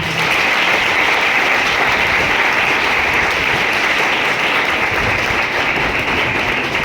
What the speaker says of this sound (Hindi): मसीह यीशु के लिए ताली।